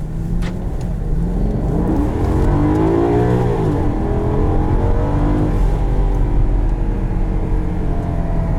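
A 2013 Maserati Quattroporte engine revs loudly and steadily up close, its deep rumble rising and falling in pitch through several swells across the whole stretch.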